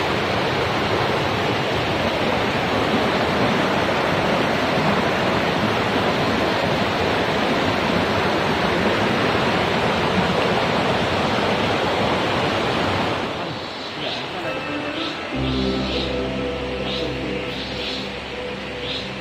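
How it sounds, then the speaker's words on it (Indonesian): The Kilompios river flowing, a dense continuous rush of water for about thirteen seconds that then drops away and gives way to a steady low engine drone. "Inilah sungai Kilompios guys."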